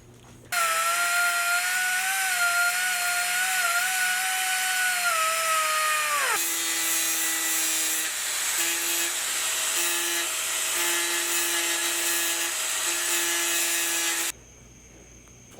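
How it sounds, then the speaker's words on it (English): A power tool grinds down a transmission input shaft for a HEMI swap into a Dodge Challenger, a loud, steady whine that drops in pitch partway through under load and then stops abruptly. "We ground down the input shaft to make it work"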